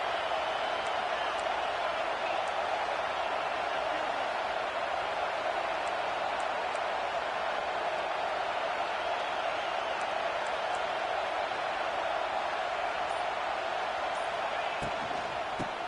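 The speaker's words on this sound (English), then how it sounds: "Listen to this crowd just shaking the girders of this place" A stadium crowd at an LSU football game roars as a dense, steady wash of noise for the whole stretch, with no breaks or swells.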